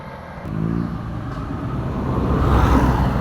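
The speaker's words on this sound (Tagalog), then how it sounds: "maingay dito guys, maraming sasakyan" Busy roadside traffic with many vehicles passing, a steady roar of engines and tires that swells toward the end, loud and close with no talking.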